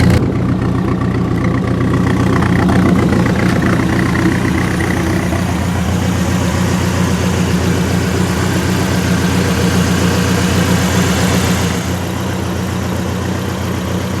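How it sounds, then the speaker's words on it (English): A 1972 Chevrolet Vega idles with a lumpy crawler cam, a loud close rough engine burble pulsing unevenly and steadily throughout, easing slightly near the end. "You can hear its lumpy little crawler cam."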